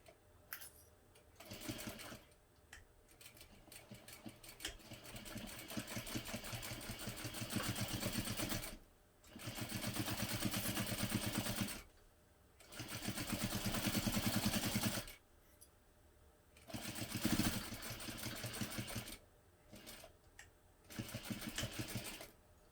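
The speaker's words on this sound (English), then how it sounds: "I'm just going to sew this together using a 1/2 inch seam allowance" A sewing machine stitches a half-inch seam on a hobo bag with a recessed zipper, running in several steady whirring bursts of a few seconds each, separated by short pauses, close and clear with no talking.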